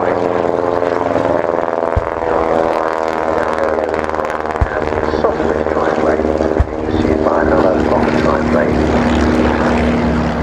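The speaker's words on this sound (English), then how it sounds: "just crossing over a Fokker triplane pursuing an SE5" A loud Fokker triplane at an air show drones past close by, its propeller engine note rising and shifting as it passes, with a few sharp pops along the way.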